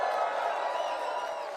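A large political rally crowd in Etobicoke cheers and roars continuously in a brief burst, a dense wash of voices heard at some distance.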